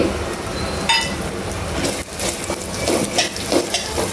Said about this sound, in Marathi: हे छानपैकी असं भाजून घ्यायचं थोड्याशा तुपामध्ये हे मनुके